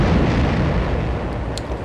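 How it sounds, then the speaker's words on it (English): A sustained, loud explosion rumble from the video game Star Wars Jedi Knight, a dense continuous roar that stays steady with no voices over it. "You'd think that that explosion would keep going indefinitely"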